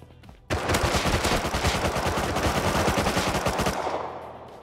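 Semi-automatic rifle fire in the survival game Rust, a rapid burst of loud sharp shots in quick succession for several seconds before tailing off, with no talk over it.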